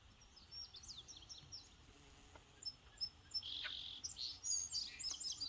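A wood thrush singing outdoors near a brush pile, clear fluting phrases heard at moderate distance against a steady hiss of insects and other small chirping birds.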